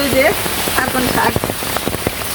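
Heavy rain pouring down in a village, a dense close patter on surfaces throughout, with a voice talking over it at the start.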